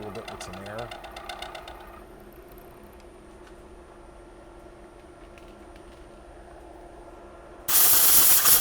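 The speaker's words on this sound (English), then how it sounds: "You'll see me come back out here and blow on it a little bit with some air." A loud hiss of compressed air blasts onto a machined workpiece in a gunsmith's shop to clear metal chips, bursting suddenly near the end after a quiet stretch with a low machine hum and talk.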